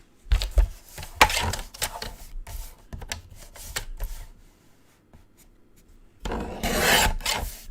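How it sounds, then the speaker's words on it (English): A paper envelope has its top cut off during card making, with close scraping and rasping bursts of blade on paper, loud at first, fading to near silence, then a final louder rasp. "I am literally going to cut that envelope top down."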